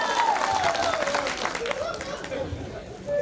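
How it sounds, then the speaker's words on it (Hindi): A seminar crowd gives loud applause for a guitarist, a dense burst of clapping that fades gradually, with chatter and a voice mixed in underneath. "जोरदार तालियां इनके लिए भी"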